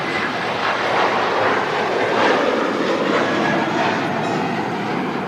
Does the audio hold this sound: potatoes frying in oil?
no